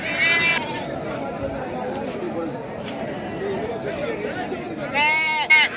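Goats at a busy livestock market bleat in short calls, one near the start and a louder cluster near the end, over a steady background of crowd chatter and people talking.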